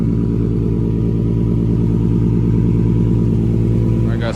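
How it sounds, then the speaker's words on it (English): A Nissan Nismo car engine, fitted with a Tomei exhaust, test pipes and stock headers, idles loud and rough after a cold start, a steady, heavy droning rumble that stays constant throughout. "cold start is fucking brutal, bro. That shit is loud."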